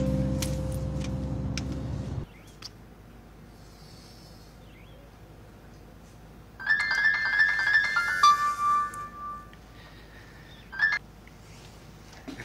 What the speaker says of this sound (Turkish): Aç telefonu Doruk ya.